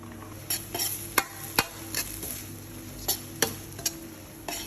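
Instant noodles stir-fried with holy basil, shrimp, squid and minced pork in a pan: a steady low sizzle with several sharp clicks and scrapes of a utensil against the pan, no talking.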